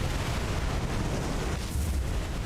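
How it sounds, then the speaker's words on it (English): Deep, rumbling explosions roll continuously from a sinking ship in a naval war game, a dense, loud low-end roar with no pause across the short stretch. "we got some more explosions"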